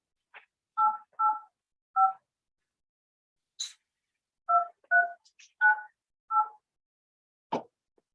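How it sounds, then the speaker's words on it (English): Telephone keypad tones dialed one after another at an uneven pace, about ten short clear beeps with brief gaps, in a quiet meeting room setting. "I think I'm ready to dial them in."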